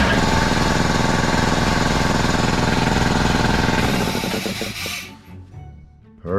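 A portable air compressor in a workshop air station starts up and runs loud and steady with a dense mechanical chatter, then winds down and falls quiet near the end.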